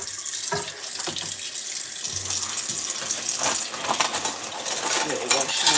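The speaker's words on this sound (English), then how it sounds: "Really wash all the spoons." Running tap water splashes steadily into a sink while spoons are washed by hand, with light clinks of metal against the basin scattered through; a faint voice may sit low beneath the continuous flow.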